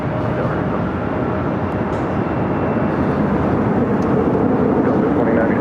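An airplane taking off at LAX roars as a steady, broad, loud rumble throughout, with a few faint higher chirps scattered over it and no talk.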